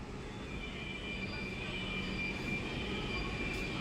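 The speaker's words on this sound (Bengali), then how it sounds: "মেট্রো চলে এসছে" A Kolkata metro train rolls into an underground station with a steady rumble and a high, sustained wheel squeal, loud and continuous throughout, with no voices.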